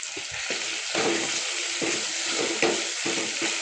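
Salted paneer fries in a pan with a continuous close sizzle. Spoon strokes stir it in a regular rhythm of soft scrapes and bursts.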